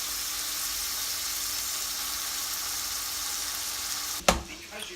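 Tuna steak sears in a hot pan in a steady, even sizzle heard up close, ending in a sharp clatter or knock near the end; no voices.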